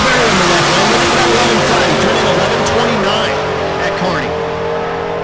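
Bob Myers' Camaro drag racing in the left lane during a race week event, engine roaring loud and steady with tire noise, while a voice talks over it throughout.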